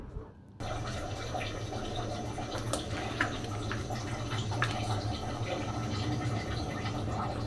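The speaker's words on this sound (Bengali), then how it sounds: "এখানে দিয়ে দিচ্ছি ভিনেগার বা সাদা সিরকা 3 টেবিল চামচ পরিমাণ।" White vinegar poured into a bowl for homemade tomato sauce, a steady liquid stream starting abruptly after a short quiet moment and running on with light splashing.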